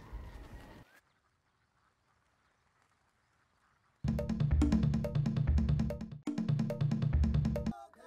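Ducks on a wine estate quack loudly in dense, repeated bursts after a stretch of near silence, with a brief sound at the very start.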